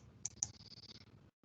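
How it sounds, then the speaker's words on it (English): Calculator keys are pressed in a quick series of soft, close clicks, with two sharper taps near the start, before a brief silence. "Type that on our calculator."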